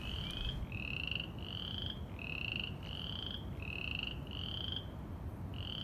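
Chorus frog calling from reeds in spring, a repeated series of rising, rasping trills at a regular pace, close and clear over a low background hum.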